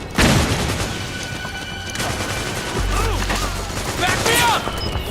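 Rapid bursts of gunfire and booming blasts from a Metal Gear Solid 4 battlefield, loud and sustained throughout, with distant shouted voices mixed in.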